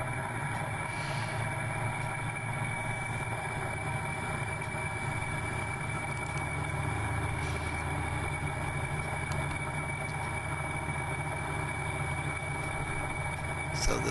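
A bandsaw mill runs steadily as it slabs the first rounded cut off a log, a loud continuous engine hum with a whining blade tone throughout, under a speaking voice.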